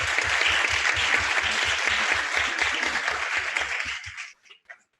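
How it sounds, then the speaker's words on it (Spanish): Audience applause at a conference on migrant health, a steady dense clapping that fades out quickly at the end, with no talk over it. "Pediría un aplauso para ella."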